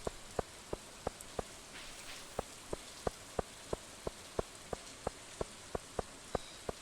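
Rain in the farming game Stardew Valley, heard as a steady, evenly spaced series of soft droplet ticks over a faint hiss, with no talking.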